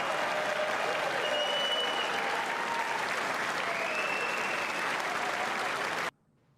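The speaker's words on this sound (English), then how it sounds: "why are they clapping?" Sustained applause from a large audience at the 2026 State of the Union address, a dense steady wash of clapping that cuts off suddenly at the end.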